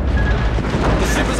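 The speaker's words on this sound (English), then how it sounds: "Destroyer blown up." A destroyer blows up in the naval game World of Warships, a short, loud, rumbling boom with a dense low-end roar that fills the whole moment without pause.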